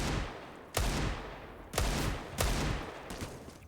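Desert Eagle pistol shots in a professional CS:GO match on the Overpass map, four sharp, heavy reports spaced under a second apart, each trailing off in a short ringing decay.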